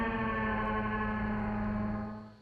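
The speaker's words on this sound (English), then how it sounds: "so it's literally kind of just acting as an octave" A thick, buzzy low synth tone holds steady for a couple of seconds, its pitch dropped an octave, then fades out at the end.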